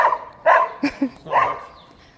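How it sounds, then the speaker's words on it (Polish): A dog barks a few times in short, sharp bursts, close by, with brief pauses between barks. "Na wszystkich szczeka."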